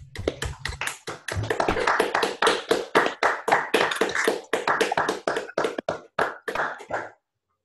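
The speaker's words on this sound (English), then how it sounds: "we're all going to clap for you" An audience at an online talk on contact network topology and epidemic control applauds to thank the speaker, a dense run of claps lasting about seven seconds, steady and fairly close, then ending abruptly, with no talking over it.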